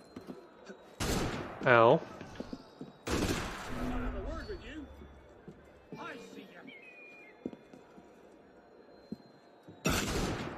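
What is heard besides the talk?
enemy gunfire in the video game Assassin's Creed Unity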